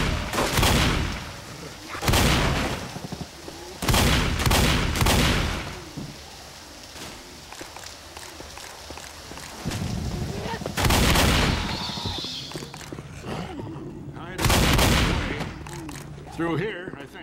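Heavy shotgun blasts in Left 4 Dead boom out at irregular intervals, about six loud shots with quieter game noise and some speech between them.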